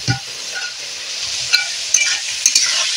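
Clams, snails and chopped tomato stir-fry in hot oil with turmeric and garlic paste, a loud, bright continuous sizzle close by, with a few quick utensil scrapes and ticks.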